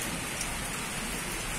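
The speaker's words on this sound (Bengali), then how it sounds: "এই বৃষ্টি হচ্ছে বিশাল।" Heavy evening rain pouring down in a steady, dense hiss of drops striking surfaces, continuous and even throughout with no voices.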